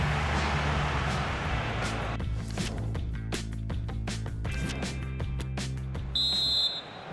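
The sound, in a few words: referee's half-time whistle in video game FIFA 23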